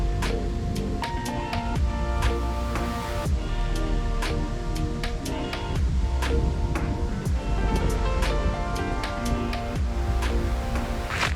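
Ocean surf on an East Coast Australian beach with trees close to the water, a constant loud roar of breaking waves laced with crackling wash and some wind, no voices.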